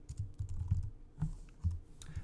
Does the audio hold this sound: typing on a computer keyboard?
yes